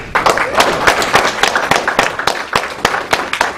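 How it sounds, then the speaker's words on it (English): Audience applause for Bobby Hemmitt at a 2008 Baltimore talk, steady crowd clapping with rhythmic bursts and fluttering peaks, loud and close, lasting the whole stretch. "let's give him a round of applause for Bobby Hemmitt"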